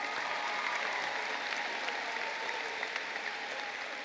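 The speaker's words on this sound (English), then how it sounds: "Give yourselves a round of applause." Sustained applause from a crowd of graduates at a high school graduation ceremony, dense and steady throughout with scattered individual claps poking out, no voices over it.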